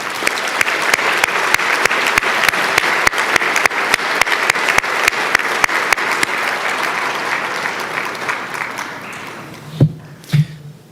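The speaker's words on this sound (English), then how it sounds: "please join me in giving them a welcoming round of applause" A ceremony audience honoring community difference makers gives a loud, sustained welcoming round of applause with sharp individual claps standing out, tapering off before a couple of close thumps near the microphone.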